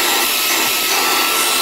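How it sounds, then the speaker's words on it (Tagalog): A KEELAT KFMT03 portable brushless turbo fan rated at 130,000 RPM runs as a vacuum with a loud, steady high-pitched whoosh. The dense airflow roar is close and constant throughout, with no pauses. "Magiging vacuum na to"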